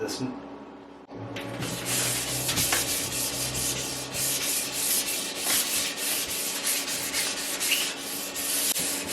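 Wet sanding with 800 grit sandpaper on a Rawnstercross finish, a continuous close rubbing scrub that starts after a brief pause and carries on steadily with slight rhythmic swells.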